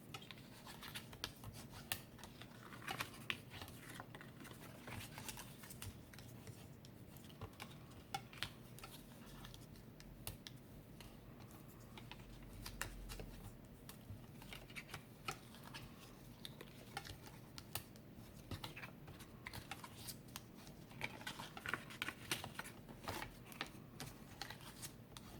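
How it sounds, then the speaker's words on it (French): Paper being scored along fold lines for a scrapbooking box: faint, repeated light scratching and tapping at close range over a quiet background, with no voices. "Et maintenant on va marquer tous nos plis."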